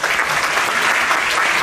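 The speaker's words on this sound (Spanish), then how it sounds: "realmente los aplausos para su representante" An audience applauds CONCITEC's representative at a formal gathering: a loud, dense burst of clapping from many hands that runs steadily through the brief moment without any pause.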